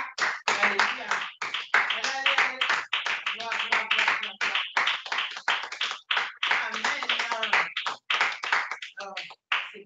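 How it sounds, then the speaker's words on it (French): A congregation at a Sabbath gathering claps along in quick rhythmic bursts, the claps sounding close and sharp under voices that sing and speak throughout. "Applaudissements pour la parole du Seigneur"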